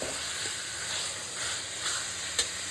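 Small mutton pieces frying over high heat give a steady, dense sizzle and hiss throughout, with a few faint clicks of stirring and no talking.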